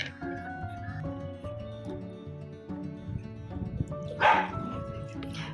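Pet dog shut out of a home soap-making room gives a brief bark and whimper near the end, fairly faint, over a quiet background of music and room noise.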